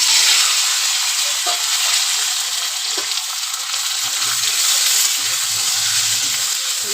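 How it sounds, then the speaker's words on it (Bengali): Potato and drumstick pieces frying in oil seasoned with nigella seeds, a steady loud sizzle with a few stirring clatters, no talk. "কেটে রেখেছি আলু আর সজনে ডাঁটা দিয়ে দেব।"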